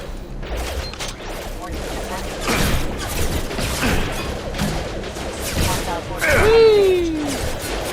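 Heavy weapon fire in Mass Effect 2, repeated thumping blasts and crashes over a busy combat background, with a rising whine near the end and a voice speaking through it.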